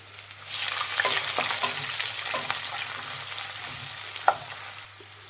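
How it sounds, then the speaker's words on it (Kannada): Sliced carrot and capsicum fry in a hot pan with a steady close sizzle, broken by scattered stirring scrapes and clicks; no talk. "ಈಗ ಇದನ್ನೆಲ್ಲ ಫ್ರೈ ಮಾಡಬೇಕು"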